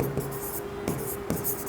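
Pen scratching across paper as someone writes out accounting entries, with brief strokes close up and quiet gaps between them.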